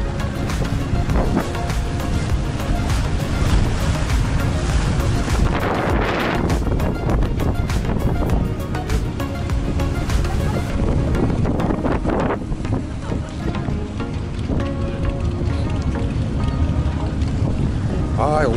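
Sea water and passing boats along the Istanbul shoreline make a constant broad wash, with heavy wind buffeting on the microphone and faint voices from people nearby.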